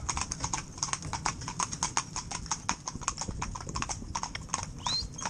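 Horses in tandem with a driver clip-clop steadily along a road, rapid hoof strikes ringing out close and clear, a faint brief whinny near the end.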